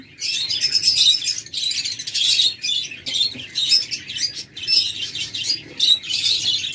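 A breeding pair of local-bred lovebirds keeps up dense, high-pitched chirping and twittering at close range, steady and unbroken, with no voices.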